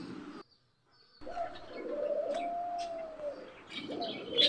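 Caged doves coo close by, a soft drawn-out call rising and falling, then a second coo begins after a brief quiet gap.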